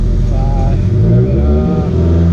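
An idling 2000s Toyota Celica engine, a steady low rumble with a faint whine, continuous throughout at close range; voices seem to murmur faintly beneath it.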